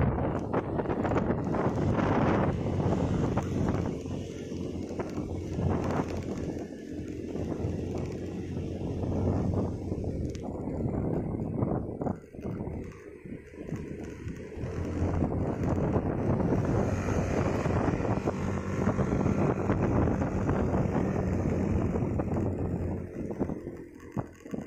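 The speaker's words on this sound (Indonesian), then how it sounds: "Duh, angin ya Allah." Strong wind roars and buffets the microphone along a mountain road through the Cangar route near Batu, Malang, where trees have fallen, a loud continuous rushing with gusty surges and brief lulls.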